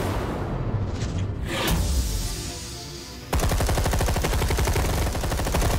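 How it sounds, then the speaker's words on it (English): Enemies in Telltale's Batman open fire, a loud, rapid machine-gun rattle that bursts in suddenly after a few seconds of rumbling ambience and a whoosh, then hammers on steadily at close range. "just shoot blindly like dumbasses"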